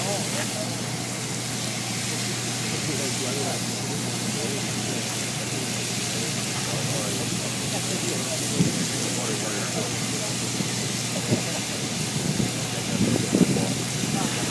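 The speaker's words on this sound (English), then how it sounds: "The sprinkler has been doing its job this whole time." Fire sprinkler spraying water onto a burning couch in a room fire: a steady, dense rushing hiss like heavy rain, continuous throughout with occasional faint knocks and crackles underneath.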